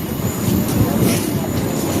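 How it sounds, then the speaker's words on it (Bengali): Evening commuter train pulling out of a station, a steady low rumble and rolling clatter of rail wagons close by, loud and continuous. "তো দেখো একটা সন্ধ্যা ট্রেন ছেড়ে গেল, উঠতে পারলাম না"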